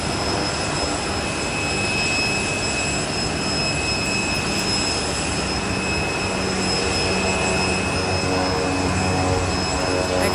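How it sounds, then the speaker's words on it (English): A Delta Embraer E-175 jet airliner pushing back at Boise airport, its engines giving a steady, continuous whine and roar that holds level throughout with a bright tonal hum on top. "that Delta E-175 is pushing back, heading over to LAX today"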